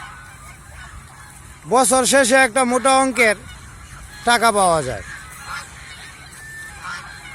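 Geese on a goose farm let out loud, close honks in two bursts, a long run of repeated calls and then a shorter one, while a person talks throughout.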